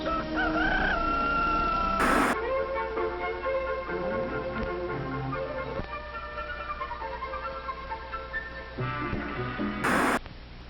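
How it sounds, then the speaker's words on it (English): A rooster crows loudly several times in a row, each call rising and falling at close range, with faint clucking from nearby fowl and a short crackle between calls. "A rooster crows."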